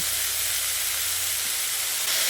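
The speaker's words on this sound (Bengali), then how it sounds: "এবার আমি যে সজনের ফুলগুলো ধুয়ে পরিষ্কার করে রেখেছিলাম সেগুলো এর মধ্যে দিয়ে দিচ্ছি" Drumstick flowers go into a pan of frying potato and eggplant, and a loud, steady sizzle and hiss fills the short stretch with no talking.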